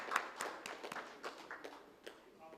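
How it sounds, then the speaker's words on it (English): Sparse, thin applause at an auto retail conference, a handful of separate claps spaced out and quiet, trailing off toward the end. "A huge round of applause, ladies and gentlemen,"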